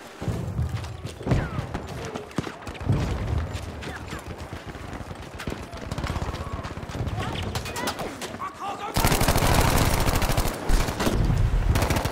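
Machine gun fire in Battlefield 5 Breakthrough mode: rapid bursts and scattered shots with mechanical clatter, growing into a loud, sustained barrage near the end, while soldiers call out over the fighting.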